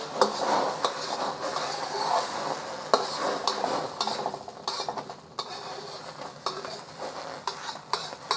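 Eggs cook in a pan that started with cold oil, giving a soft steady sizzle broken by frequent clinks and scrapes of a utensil against the pan, moderately close.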